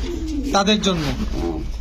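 A pigeon coos softly a couple of times nearby, low and throaty, while someone keeps talking over it, among pigeons for sale.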